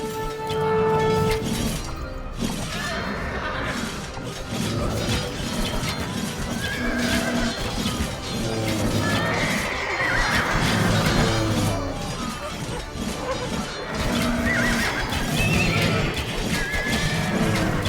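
Horses in pens neigh and whinny repeatedly amid clopping hooves and battle clatter in the Age of Empires II: Definitive Edition game, a dense, busy mix with crashes throughout.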